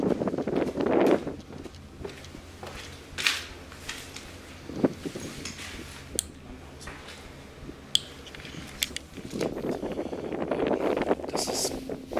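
Gusty wind at an abandoned valley railway, buffeting the microphone in loud rushes that rise and fall across the whole stretch, with a few sharp knocks and rustles in between.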